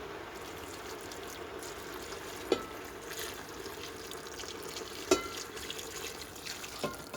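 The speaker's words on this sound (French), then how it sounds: "Je vais noyer ça à fleur avec le bouillon." Broth is poured into a pot of tomato sauce with spice powder and harissa, a soft continuous wash of liquid with a few faint clinks, fairly quiet and without speech.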